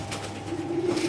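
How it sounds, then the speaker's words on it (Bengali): Several Netherlands-ringed racing pigeons cooing nearby, a low steady throaty coo with a rising warble toward the end, heard alone with no talk. "এটা নেদারল্যান্ডের 3টা কবুতর আছে"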